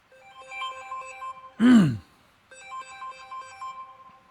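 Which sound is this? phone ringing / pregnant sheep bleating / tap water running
phone ringing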